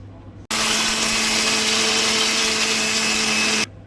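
A blender purees mango for a sweetened pudding dessert, running loud and steady with a high whirring motor for about three seconds before abruptly stopping.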